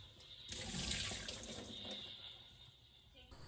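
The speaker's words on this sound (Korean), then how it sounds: "껍질을 까면서 부서진 조각들이 계란에 묻어 있을 수 있기 때문에 깨끗하게 한 번 더 헹궈줍니다" Tap water runs steadily over freshly peeled boiled eggs being rinsed clean in a sink, a soft close splashing that swells early and then settles, with no talking.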